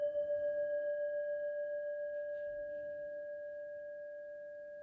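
A hand-beaten Tibetan singing bowl rings on alone in a long, steady sustained tone with a bright overtone above, slowly fading over the whole stretch with a faint pulsing shimmer.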